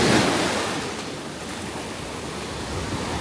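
Sea waves wash onto a clean beach at Mui Ne, Vietnam, a steady broadband surf roar with a slightly louder surge at the start, close and continuous with no voices.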